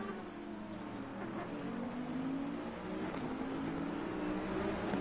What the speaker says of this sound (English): just got to come back and listen to this beautiful Aston Martin